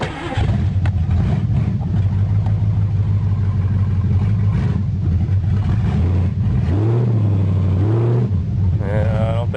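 A Ford Granada idles with a low steady engine hum after a fluid top-up, then the revs rise and fall briefly as the car starts to move; a voice speaks over it.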